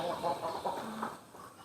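Desi chickens clucking on a farm, a run of soft, moderately close clucks and murmurs over the first second or so, then quieter calls fading out.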